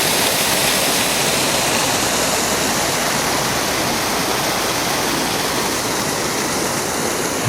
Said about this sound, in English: Here it is, the dam itself.